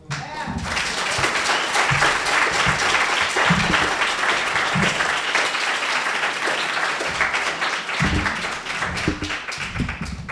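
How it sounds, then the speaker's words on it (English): Audience at a Juneteenth talk on freedom and the power of words claps steadily for ten seconds, a full, close roar of hands with occasional voices and whoops rising through it. "Oh, come on, keep clapping your hands."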